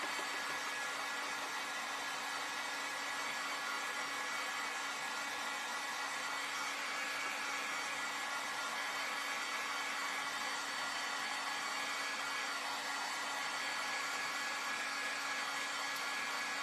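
Hair dryer blowing steadily while drying a wooden round lighted wall hanging, a constant close, loud whooshing drone with a faint whine and no pauses.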